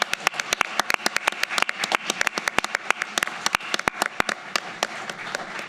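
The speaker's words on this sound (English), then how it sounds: "let's give a round of applause to 30 years of BCCP" A room full of people applauds in the City Council chambers to mark 30 years of BCCP, with sharp, fast clapping at close range that keeps going throughout.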